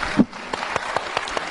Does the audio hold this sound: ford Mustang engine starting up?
no